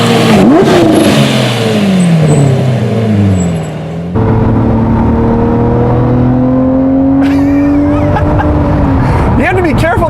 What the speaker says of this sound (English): The sound with the downshifts is so good!